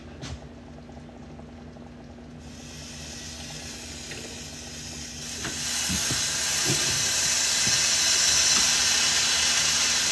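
Cheese toasties frying in butter in a home kitchen pan, a soft sizzle that swells into a loud, steady hiss partway through, with faint clinks and no talking.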